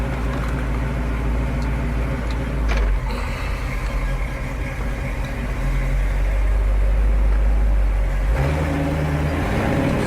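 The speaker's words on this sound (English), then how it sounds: "we're going to fire it up and take it for a little drive here" A steel 1932 Ford Roadster Hi Boy hot rod engine rumbles loudly and steadily while driving, with a deep continuous drone and gear-shift changes in pitch.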